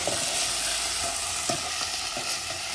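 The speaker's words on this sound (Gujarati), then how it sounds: "બટેટા ટમેટા બીજા મરચા બધું આપણે નાખી દીધું હલવી નાખી" Potatoes, tomatoes and chillies are stirred in a frying pan for rasiya bhat. A steady sizzle runs under repeated scraping knocks of a spoon against the pan.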